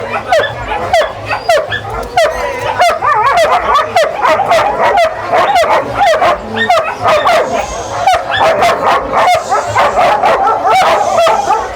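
A German Shepherd at a crowded cattle fair barks loudly and aggressively in a rapid, continuous volley of sharp barks and yips, with crowd voices and laughter mixed underneath.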